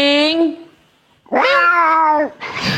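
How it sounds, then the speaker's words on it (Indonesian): A cat meows twice, loud and close, a long drawn-out cry followed after a pause by a second, stronger meow, with a short noisy burst at the end. "Kucing."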